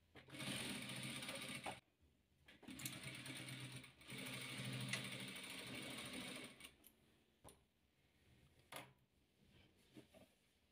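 Sewing machine stitching rows of a patchwork quilt together, fast buzzing runs of stitching broken by short pauses, then quieter intermittent bursts toward the end.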